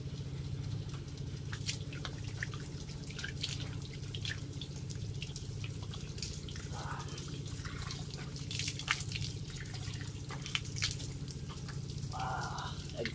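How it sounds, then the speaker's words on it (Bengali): Water trickles and drips steadily while someone washes hands and face at a village tap after rain, with a quiet continuous splashing patter and a low background hum, close by and soft, no talk. "তো একটু হাত মুখ ধুয়ে নই"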